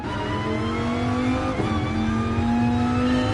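A steady race car engine drone from the video game GT Sport holds a sustained pitch that slowly climbs, loud and continuous throughout, like a race car cruising.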